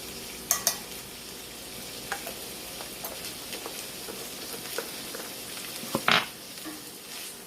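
Corn salad ingredients stirred in a hot oiled pan with salt and black pepper: a soft steady sizzle under light scraping and occasional sharp clacks of the utensil against the pan, close by.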